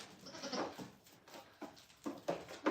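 Goats bleat at feeding time in a farm milk room, a few faint overlapping calls and rustling bursts at a distance, quiet overall.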